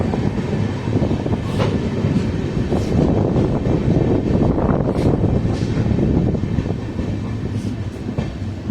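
A train rumbles past up close near the Tungabhadra river on the Chalgeri-Harihar line, a steady heavy roar with rhythmic rattling of wheels and cars running the whole way through, no voices.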